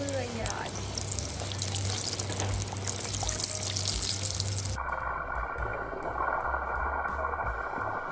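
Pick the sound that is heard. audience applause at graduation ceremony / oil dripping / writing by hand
oil dripping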